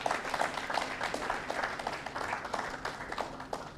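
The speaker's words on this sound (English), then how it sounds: "I think they deserve another round of applause." Audience applause at a project launch ceremony, steady dense clapping from a crowd lasting several seconds at a fairly even level.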